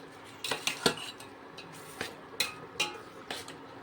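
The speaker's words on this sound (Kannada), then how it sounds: "ಅದಕ್ಕೆ ಚಂದ ಗರ ಗರ ಗರ ತಿರ್ಗಿಸ್ಕೊಂಬ್ರಿ ಹಿಂಗೆ" A metal spoon scrapes and clinks against the side of a cooking pot while pasta is stirred, making a string of sharp, irregular taps at close range with quiet gaps between them.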